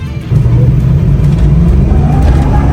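A 6.0 Powerstroke diesel truck, still on its stock air filter and catalytic converter, accelerating hard onto a freeway. The engine gives a loud, steady, deep roar that swells slightly and holds without a break.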